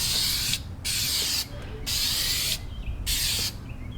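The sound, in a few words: Dupli-Color tire paint aerosol can spraying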